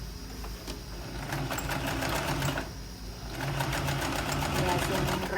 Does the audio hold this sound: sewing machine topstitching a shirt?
yes